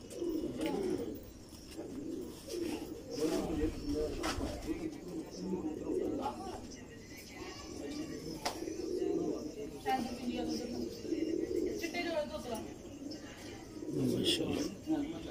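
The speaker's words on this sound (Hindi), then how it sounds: "ये बड़ा कबूतर है।" Large pigeons of a rare breed coo in a cage, a steady low murmuring cooing that runs throughout, close by, with people talking over it.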